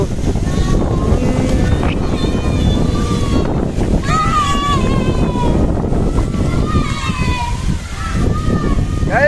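Strong wind buffets the microphone in a constant roar, with voices talking over it throughout.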